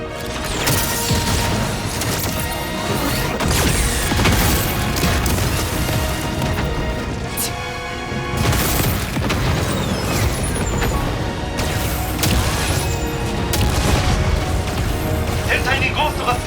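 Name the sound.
explosions in video game Xenoblade Chronicles X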